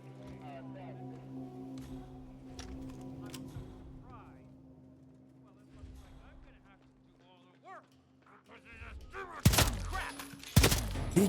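Assault rifle gunfire in the Hitman World of Assassination game arrives as two loud, sharp bursts near the end, after quieter in-game ambience and faint movement sounds.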